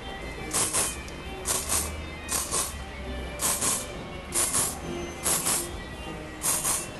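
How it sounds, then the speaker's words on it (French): Hairspray is sprayed in seven short, sharp hissing bursts at a steady rhythm to set teased, backcombed hair for a voluminous bun, close and fairly loud with quiet gaps between. "Je vais utiliser le spray ici, simplement pour fixer le crépage."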